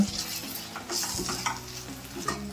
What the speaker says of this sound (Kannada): ಇವಾಗ ಇದನ್ನ ಒಂದು ಸ್ವಲ್ಪ ಮಿಕ್ಸ್ ಮಾಡ್ಕೊಳ್ಳೋಣ.